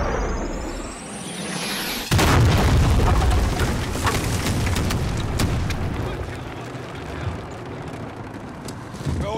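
Call of Duty: Modern Warfare artillery strike on troops north of a bridge lands with a sudden loud boom, followed by rumbling explosions and crackling debris that stay heavy and sustained, with radio-style voices in the mix.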